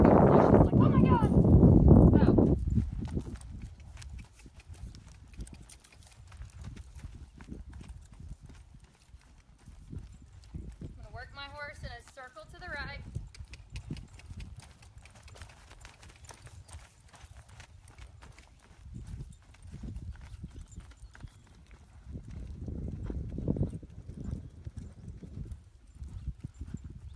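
Horse hooves clip-clopping in a riding arena while the horse is asked to pick up a left lead, soft rhythmic steps running under a rider's talk, with a brief louder rustle at the start.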